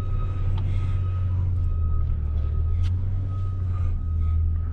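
A heavy engine rumbles up close in a metal scrapyard while a thin, high-pitched electronic beep sounds steadily through the whole stretch, like a vehicle's reversing alarm.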